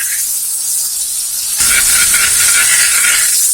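Tomatoes and capsicum fry and sizzle in a pan for sweet chilli gobi, a steady hiss that jumps louder halfway through as fresh vegetables hit the hot oil, with stirring and no voices.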